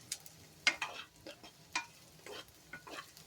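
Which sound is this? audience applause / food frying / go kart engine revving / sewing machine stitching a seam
food frying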